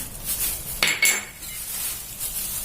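Glass noodles tossed in a bowl with sesame oil, chili, sliced spring onion and coriander; a single short burst of utensil clatter against the bowl, then near silence.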